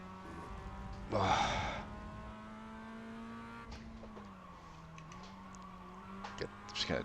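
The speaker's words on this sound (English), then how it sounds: "Start drifting there instead." A race car in a video game drifts at Virginia International Raceway, its engine droning steadily with a loud burst of tire squeal and skidding early on, then shifting revs and brief scrubbing.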